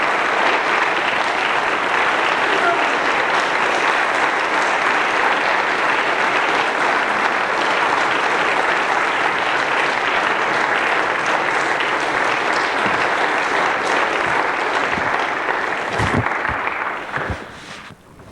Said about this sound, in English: I take half such applause